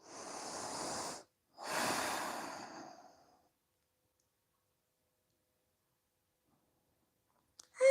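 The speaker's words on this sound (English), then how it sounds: "Breathing through your nose." Two long nasal breaths during a yoga session, an inhale then an exhale, close and soft, followed by quiet and a brief click at the end.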